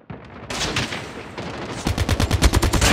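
Sniper rifle fire in Call of Duty: a couple of loud, close shots are followed by a rapid run of sharp repeated reports toward the end. No voices are heard.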